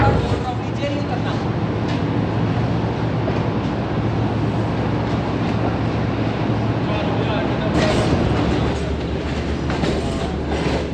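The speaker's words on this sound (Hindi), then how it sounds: "स्मूथ डिपार्चर हो रहा है 28 डाउन शालीमार एक्सप्रेस का लाहौर जंक्शन से" The Shalimar Express pulls out of Lahore Junction with a loud, steady rumble of carriages and wheels close by, rising toward the end, and a voice speaks over it.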